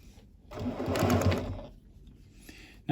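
A sewing machine runs in one short burst of fast, steady stitching while top stitching a fabric face mask, with a soft whir that rises and then stops.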